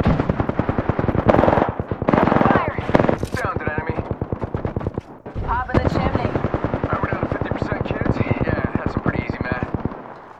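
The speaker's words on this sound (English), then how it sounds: "Opening fire. Shots fired." Rapid automatic gunfire in the Apex Legends battle royale game, dense bursts of closely spaced shots rattling almost continuously with a brief lull midway, loud and close, layered with game effects.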